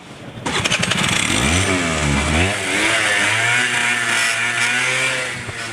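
A small two-stroke Honda Dio scooter engine cranks on the electric self-starter, catches, and revs up before settling into a steady, buzzy idle close by.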